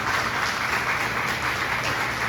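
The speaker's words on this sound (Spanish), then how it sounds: "Denle un fuerte aplauso" A church congregation applauds in a steady, dense wash of clapping that holds at an even level throughout, with no talking over it.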